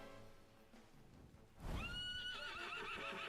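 A horse in the video game Dragon Quest XI gives a loud, clear whinny that rises and wavers after a quiet, low rumbling stretch with faint hoof sounds.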